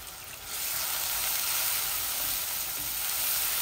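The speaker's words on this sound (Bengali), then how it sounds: "মাছগুলো এত বেশি বেশি ভাজবো না," Aair fish pieces fry in hot oil with a loud, steady sizzle that swells after a brief quieter start and holds close up.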